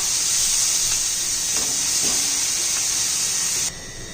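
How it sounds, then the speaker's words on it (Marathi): Onions sautéing in a pan for a simple Rajasthani-style fenugreek leaf (methi) dish, giving a steady, close frying hiss that runs throughout and drops slightly near the end, with a few faint clinks. "कांदा घालून घेऊ आता कांदा चांगलं परतून घेऊया आपण"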